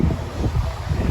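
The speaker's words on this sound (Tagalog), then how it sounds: "malakas ang hangin" Strong wind buffets the microphone in a steady low roar, loud and continuous, with a faint watery rush underneath and no voices.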